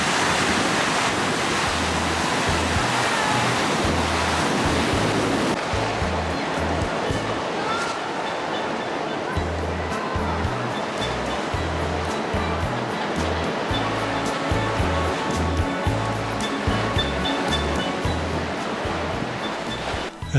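Surf breaks along a beach under strong, gusting wind, a steady loud roar of waves and wind buffeting with no speech, continuous throughout.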